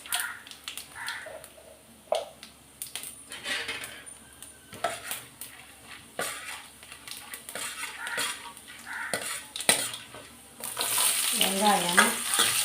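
Fennel seeds and chana dal frying in oil in a pan give a soft sizzle with scattered spoon scrapes and clinks against the pan, then a louder, steadier sizzle toward the end.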